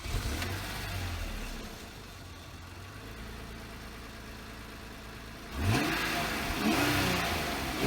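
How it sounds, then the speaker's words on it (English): A worn Honda car's engine rumbles at idle, then fires up into a sharp rev with rising and falling pitch sweeps, loud and close, no talking. "when I start the engine, it's Honda reliable"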